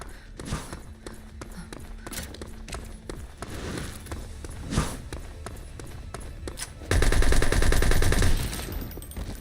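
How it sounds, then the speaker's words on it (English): Handgun fire in a shooter video game, with repeated sharp shots at an irregular pace over steady game noise and a louder burst of action near the end. "the handgun is actually quite useless. Not enjoying it. The rate of fire is also really not great."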